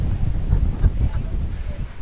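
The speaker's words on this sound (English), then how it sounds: "this wind is annoying me more and more" Gusty wind at Kato Paphos Harbour, Cyprus, buffets the microphone in low, rumbling blasts that rise and fall throughout, loud and close.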